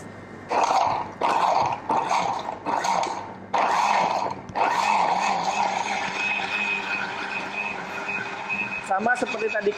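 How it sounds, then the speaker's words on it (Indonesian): An electric blender grinds raw tuna fish into a smooth paste for fish balls, a steady motor whir that starts and stops in several short pulses before running continuously, close and loud. "Oke, siap di blender sekarang."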